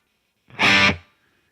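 A single distorted electric guitar chord through a Tonex amp model, recorded bone dry with no room reverb, strikes sharply, holds about half a second and cuts off cleanly into silence.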